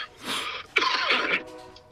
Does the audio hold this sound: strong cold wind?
no